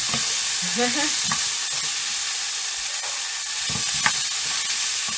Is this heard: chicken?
yes